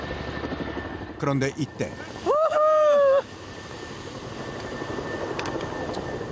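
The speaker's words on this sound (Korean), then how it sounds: "현장에서 가끔 너무 더울 때는 이렇게 헬기에서 물 뿌려주면은 정말 시원합니다" A firefighting helicopter works over a forest fire, its steady rotor drone heard alongside rushing, crackling noise and whooshing air. Someone speaks briefly in the middle.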